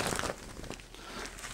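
A plastic shopping bag crinkles and crunches as it is emptied during a household goods haul, a close, fairly quiet rustle that fades into softer crackles.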